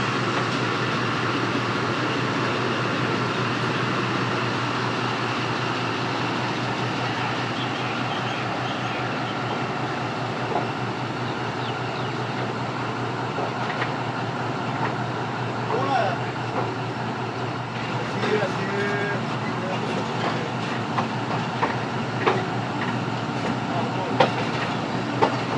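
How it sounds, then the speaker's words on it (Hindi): The 171-Up Sialkot Express pulls slowly away from Pasrur station in heavy rain, a steady low rolling rumble with scattered rail clicks growing more frequent toward the end. "मूव करना शुरू कर दिया ट्रेन ने आहिस्ता आहिस्ता से"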